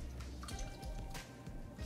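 Lemon being squeezed by hand into a small bowl, soft quiet wet drips and squishes in a short irregular run, close and faint.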